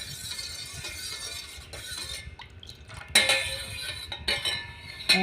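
Spoon stirring homemade rose milk with added food colouring, clinking against a glass or vessel in continuous scraping swirls that grow louder near the end, with no talk.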